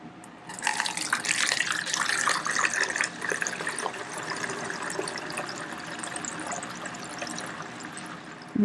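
Water mixed with baking soda and isopropyl alcohol poured through a funnel into a bottle, a close steady gurgling stream that rises sharply at first and then settles into a softer trickle.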